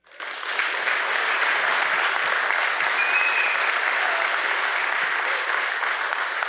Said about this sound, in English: That's some good applause.